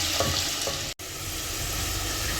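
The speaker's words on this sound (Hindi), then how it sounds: "अब हम अपनी प्याज डालेंगे और ज़ीरा भी साथ ही डाल देंगे, और प्याज को हल्का ब्राउन करेंगे" Chopped onions and cumin seeds fry in hot oil with a steady, dense close sizzle that cuts out for an instant, then resumes.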